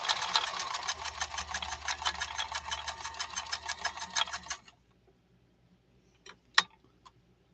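A 1970s Japanese Kenmore 1231 sewing machine runs a zigzag stitch in a steady rapid rhythmic whir for about four and a half seconds, then stops, leaving a few faint clicks and taps.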